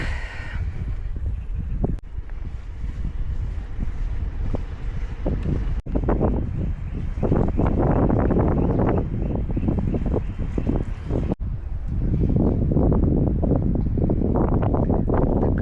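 Strong wind roars continuously against the microphone, a loud low blustery rumble that swells and eases in gusts with no talking.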